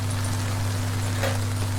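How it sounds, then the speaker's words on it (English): Gentle rain falls outside a quiet Italian bakery at night, a soft continuous hiss of drops layered over a steady low electrical hum, with no voices. "the gentle whisper of rain outside"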